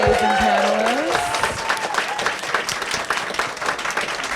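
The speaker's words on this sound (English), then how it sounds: "Oh, that's a prolonged applause." Sustained audience applause closes a panel discussion at the Sundance 2026 Impact Lounge, a dense steady wash of many hands clapping that carries on throughout, with a voice briefly audible over it at the start.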